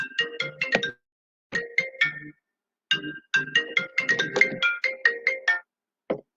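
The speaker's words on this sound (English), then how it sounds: "My phone is definitely going off." A mobile phone rings with a loud, close, melodic ringtone, repeating bursts of bright tones separated by brief gaps and then cutting off, with no speech over it.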